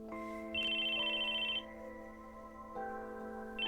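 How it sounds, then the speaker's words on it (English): A phone ringtone plays in the Chaos;Child video game, a steady electronic melody of sustained tones that shifts pitch in stages, loud and close with no voices. "Suddenly his phone began to ring."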